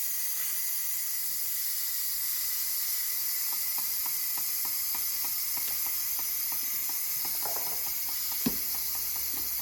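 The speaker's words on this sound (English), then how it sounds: "you just push this button, and it releases all the steam" Electric pressure cooker quick-releasing steam while cooking chicken Alfredo: a steady loud hiss fills the whole clip, with a faint rapid ticking rattle running through it and a single sharp click near the end.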